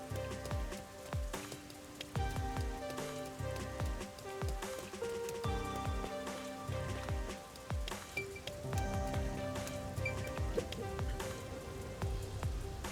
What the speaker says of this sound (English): the rain sounds just make it way better